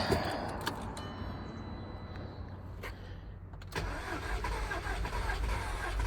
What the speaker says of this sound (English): Let's see if she'll start.